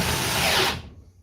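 Parkside power drill running at speed 2 into a workpiece, a loud steady whine and grind for most of a second before cutting off abruptly into quiet.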